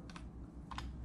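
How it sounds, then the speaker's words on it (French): Two short bursts of quick key clicks on a computer keyboard as a web address is typed, soft and close with a brief pause between them. "vous pouvez taper l'adresse suivante"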